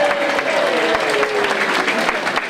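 Clapping fills the room at a community meal as kitchen volunteers and Council on Aging volunteers are thanked, a dense, steady round of applause with a voice faintly underneath.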